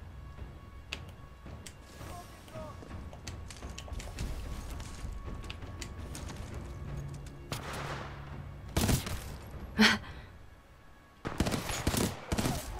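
Gunfire in the video game Titanfall 2, with rapid bursts and sharp shots among ongoing mechanical game noise, loud cracks standing out toward the end, no talk.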